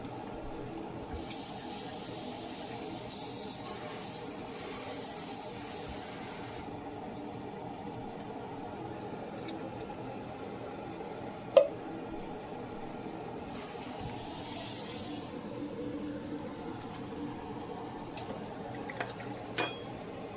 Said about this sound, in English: I'm going to run some water.